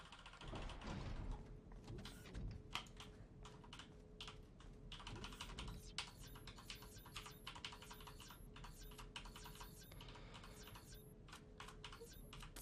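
Rapid typing on a new computer keyboard during a Resident Evil 4 speedrun produces a dense, continuous patter of soft clicks and keystrokes at low volume, with faint room noise underneath.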